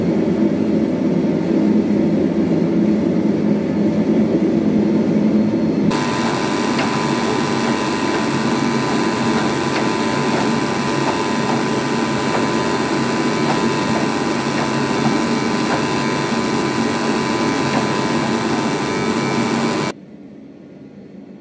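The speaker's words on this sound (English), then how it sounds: "I drill in the steel." A steady, loud grinding whine of a drill boring into Damascus steel during sword forging, continuous for about fourteen seconds after a quieter motor hum, then stopping abruptly.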